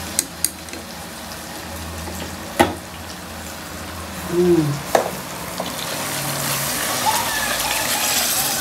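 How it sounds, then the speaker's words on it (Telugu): Hot water pours into a pan of mutton head and leg pieces frying in oil, splashing and hissing in short bursts that settle into a steady bubbling simmer, close by. "నీళ్ళు పోసుకుందాం, వేడి నీళ్ళు."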